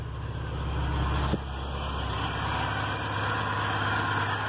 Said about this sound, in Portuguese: escutem o barulho do motor com a marcha lenta, com o atuador funcionando.